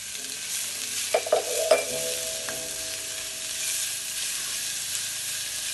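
Minced garlic sizzles softly in a hot pan with a steady low hiss, punctuated near the start by a few sharp clicks and taps of a utensil against the pan.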